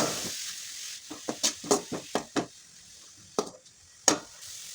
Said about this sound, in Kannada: ಸ್ವಲ್ಪ ಉಪ್ಪನ್ನು ಹಾಕೋತಾ ಇದ್ದೀನಿ. ಅದನ್ನು ಕೂಡ ಚೆನ್ನಾಗಿ ಮಿಕ್ಸ್ ಮಾಡ್ಕೊಳ್ಳೋಣ.